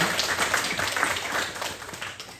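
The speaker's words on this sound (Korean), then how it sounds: "이렇게 찾아오신 분들 박수 한번 하시죠" A church congregation at a Sunday worship service applauds visiting guests: a dense, steady patter of many hands clapping together, fairly close and even, tapering slightly toward the end.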